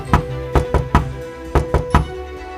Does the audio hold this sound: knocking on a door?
yes